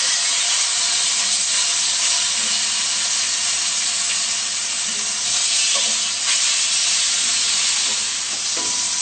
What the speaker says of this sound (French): Faire rissoler la viande sur toutes ses faces